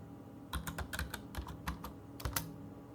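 Keys clack on a computer keyboard as a search is typed, a quick uneven burst of close, crisp taps with short pauses between clusters.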